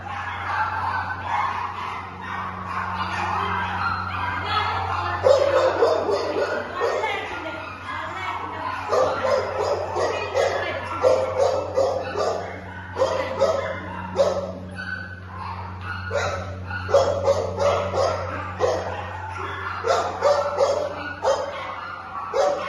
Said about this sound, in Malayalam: കൊറേ ഡോഗ്സ് ഉണ്ട്.